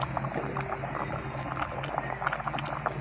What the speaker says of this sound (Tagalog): kulong-kulo na siya